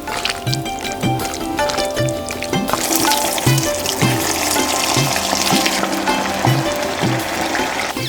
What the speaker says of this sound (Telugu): తీసి పక్కన పెట్టుకుని రొయ్యలు ఫ్రై చేసుకుందాం.